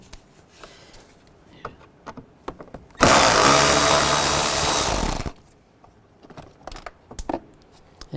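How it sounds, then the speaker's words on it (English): A power driver with a T20 socket spins out trim screws on a 2005-10 Volkswagen Jetta during radiator replacement, one loud steady whirring burst of about two seconds between quieter clicks and handling noises. "You can use a T20 socket. Take those screws out."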